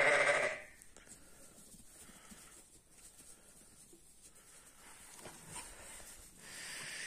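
Sheep and lambs in a pen, a loud bleat at the start followed by quieter shuffling and faint bleats from the flock, then another bleat rising at the end, heard at night with no talking.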